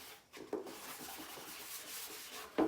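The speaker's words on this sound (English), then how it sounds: "how to scuff sand your piece" A furniture piece is scuff sanded by hand in quick, faint rubbing strokes, heard close, with a couple of sharper scrapes near the start and end.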